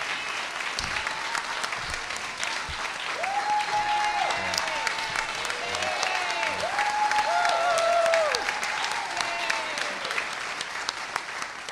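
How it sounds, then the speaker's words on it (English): Sustained audience applause fills the hall at a Seattle mayoral concession event, steady and dense throughout, with cheering voices rising over the clapping near the middle. "Well, the applause says it all, Joy."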